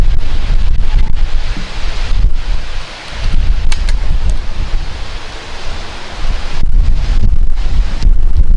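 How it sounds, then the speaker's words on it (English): Strong outdoor wind buffets the microphone at an airgun shooting range, a loud, continuous roaring rumble that dips briefly and then surges again, with no voices. "That wind is really picking up now."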